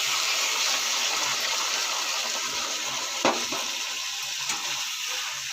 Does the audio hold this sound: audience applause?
no